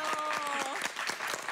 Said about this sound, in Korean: 저 남편에게 박수 한번.